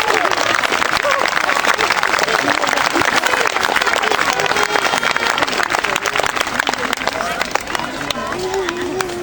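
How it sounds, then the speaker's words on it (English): An outdoor audience at a Roman army drill display in Caerleon amphitheatre claps at length, a dense, lively patter of many hands with crowd voices mingled in. "Give them a clap"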